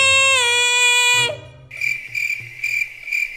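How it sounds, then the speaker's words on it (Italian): Cicadas chirp in a steady pulsing drone, loud and close, after a brief tonal sound fades out. "Sentite? Le cicale."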